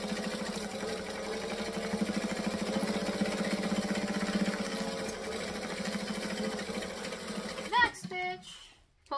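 Sewing machine chain stitching fabric for a beach-style project, running close in a steady rapid mechanical whir for several seconds before stopping with a few clicks and clatters.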